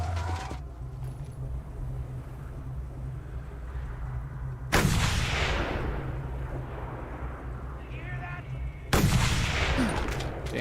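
Gunfire in the Mad Max video game, two loud sharp blasts with long rumbling decays separated by several seconds, over a low droning vehicle-like hum and no talking.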